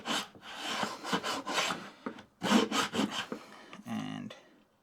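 Router plane cutting into wood, a series of short scraping rasps with gaps between passes, fairly close and moderately loud, with one longer low rubbing stroke near the end.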